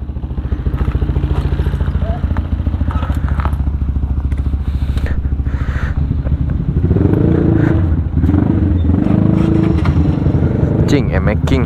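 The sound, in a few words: Yamaha MX King 175cc motorcycle engine running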